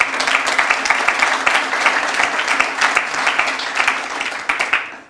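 Guests in a room at a Labour Friends of Cyprus party give a warm, sustained round of applause, dense and even throughout before easing off at the very end.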